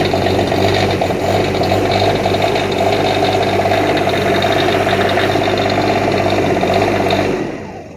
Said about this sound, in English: It's actually kind of a quiet generator, so I'll start this real quick.